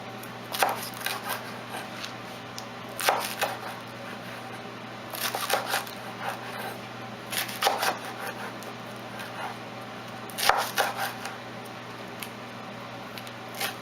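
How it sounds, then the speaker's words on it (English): A dull, not-very-sharp knife slices rolled raw collard greens into slivers, giving clusters of crisp crunching cuts every couple of seconds, close and moderately quiet against a low hum. "and then you're going to cut them in slivers"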